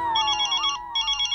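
Phone ringing with a call from the office, a bright electronic ringtone of warbling tones played as two short bursts with a brief gap, loud and close, with no talk.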